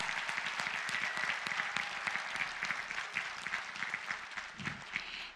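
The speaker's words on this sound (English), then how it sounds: "Let's give them a round of applause." Sustained audience applause at an evening community gathering honoring local food businesses, dense steady clapping throughout with a few faint voices mixed in.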